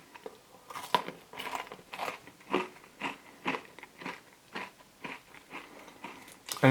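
Crunchy bites and chewing of a Zott Monte ice cream cone, a steady run of close, crisp crunches repeating every half second or so, with no talk over them.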